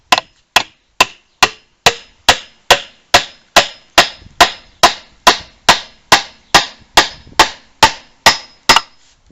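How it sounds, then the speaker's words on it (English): A hammer driving a pin into a hole while a shed is being built, about twenty sharp, evenly spaced ringing strikes, close and loud, with no talking. "I can hammer that down now and that will be tight."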